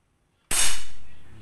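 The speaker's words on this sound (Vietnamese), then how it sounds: "Chúng ta bắn thử nha." A homemade steel-tube marble crossbow fires once, a sharp loud snap with a bright crack and a short ringing decay, close up after a silent moment.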